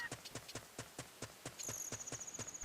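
Epona the horse's hooves clip-clop in Zelda: Ocarina of Time, a quick, even run of crisp hoof beats that speeds up toward the end as a high game tone rings in.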